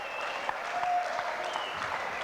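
Crowd applause at an indoor cricket match, a steady wash of clapping and cheering from many spectators holding at an even level for the whole stretch, fairly distant with no talk over it.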